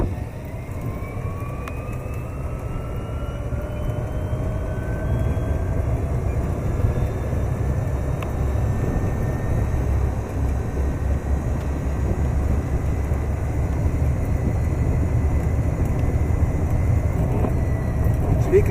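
A 2002 Gem Car golf cart with a 7.5 horsepower motor and 14-inch wheels on a speed run, its motor whine climbing steadily over a constant road and wind rumble, close and loud, with no speech.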